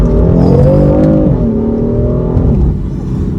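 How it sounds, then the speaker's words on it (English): An F82 BMW M4 accelerates hard, its engine note loud and close, climbing through the revs with a brief dip at a gear change before pulling again. "one more acceleration run"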